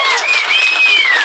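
Audience applause, a short burst of dense clapping heard loud and close.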